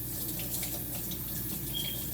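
Water runs from a sink faucet in a steady, even hiss over hands held under the stream, alone without speech.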